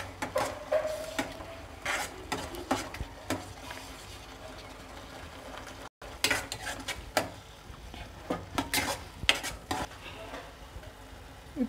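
Carrot halwa is stirred in a pan, with a spoon scraping and clinking against the metal in irregular strokes over a soft sizzle, fairly quiet and close, with no talking.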